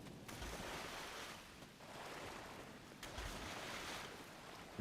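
Steady rain falling on the planet Ryza in Star Trek Online, a broad, continuous wash of hiss and rushing noise like surf or wind, moderately quiet and unbroken throughout.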